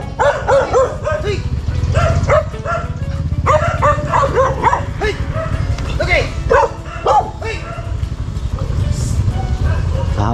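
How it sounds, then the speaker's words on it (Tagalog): Several dogs barking repeatedly and loudly in overlapping bursts, yips and bow-wows running nearly the whole time over a steady low background rumble. "Dami ng aso"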